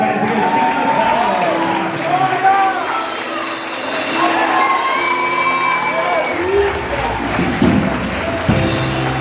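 A church congregation at a family service applauds and cheers for a couple, steady crowd clapping and voices with a speaker talking over it.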